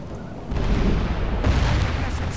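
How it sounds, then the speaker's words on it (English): Cannon fire in the video game Medieval 2 Total War, a deep rumbling boom followed by a second heavy blast about a second later, dense low roar filling the background. "They'll get hit by my cannons."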